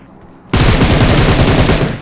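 Sustained automatic fire from an M416 rifle in PUBG Mobile, a loud, rapid burst of evenly spaced shots starting abruptly and rattling on for about a second and a half.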